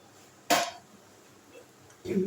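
A saucepan is set down on the stove and mustard oil is added, giving two distinct metallic clunks a second and a half apart with quiet between them.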